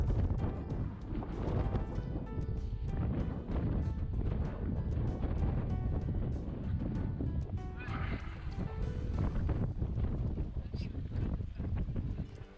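Wind gusts steadily across an open beach, a constant roar and buffeting rumble filling the whole stretch, with people talking over it.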